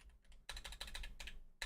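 Rapid clattering keystrokes on a computer keyboard, typed in quick bursts with brief pauses, close and fairly quiet with no voices.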